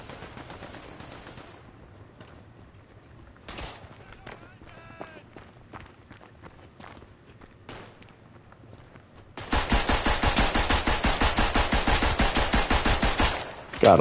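A machine pistol fires in a World War I Western Front video game. Scattered single shots and a voice come first, then a loud, rapid stream of automatic fire lasts about four seconds before stopping abruptly.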